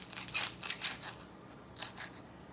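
A kitchen knife chops off parsley and dill stems, producing a few quick, crisp cutting clicks close by, quiet and without talk.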